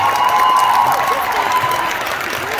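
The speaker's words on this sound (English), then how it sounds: "a round of applause." Audience applause fills a room at the close of an event, a dense, steady wash of clapping that stays loud throughout and eases slightly near the end.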